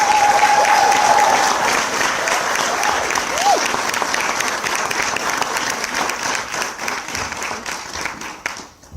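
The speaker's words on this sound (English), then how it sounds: "let's make a huge round of applause and welcome Mr. John Singleton to the stage" Audience at a Poetic Justice 25th anniversary Q&A gives director John Singleton a big round of applause as he comes to the stage, dense sustained clapping with some crowd cheering that gradually fades near the end.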